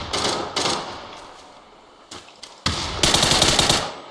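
Rapid automatic gunfire in PUBG comes in short loud bursts, with a quieter stretch of sparse shots before a dense, sustained volley closes the moment.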